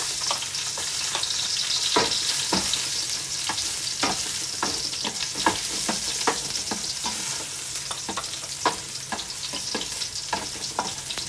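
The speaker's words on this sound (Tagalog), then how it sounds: "mainit na yung ating cooking oil. So, maglalagay na po tayo dito ng garlic." Garlic dropped into hot cooking oil, fried as the first step of a Filipino sautéed bottle gourd dish with shrimp and sardines, crackles and sizzles steadily, with repeated sharp stirring scrapes against the pan throughout.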